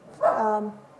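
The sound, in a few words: dog barking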